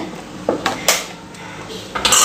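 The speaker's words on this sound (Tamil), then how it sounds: "நல்லா மிக்ஸ் பண்ணி கொடுத்துக்கலாங்க." A ladle stirs sambar in a metal pot, making several sharp, close scrapes and knocks against the pot in an uneven rhythm, separated by short quiet gaps.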